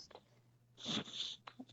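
A single sharp sneeze bursts out at close range, loud and brief, followed by a quick breath, against a quiet indoor background.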